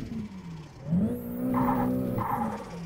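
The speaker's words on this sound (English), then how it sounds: "I love the sound of that blow off." Nissan 180SX street car in the Assetto Corsa racing game, engine droning and revving steadily with a sharp turbo blow-off hiss chirping twice near the end, loud and close with no talk.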